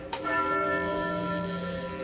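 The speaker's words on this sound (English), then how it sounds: "That bell's ringing." A church bell ringing in a belfry in an old Western radio drama, one clear struck toll that hums and slowly fades with a long ringing sustain.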